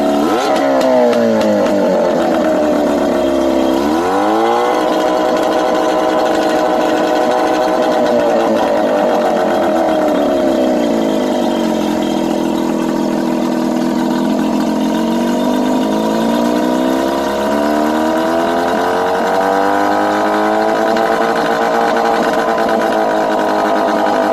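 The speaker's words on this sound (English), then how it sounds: "Pretty fast and pretty well tuned engine." A fishing boat's well-tuned engine runs loud and steady up close, its pitch slowly rising and falling as the throttle changes, with no talking.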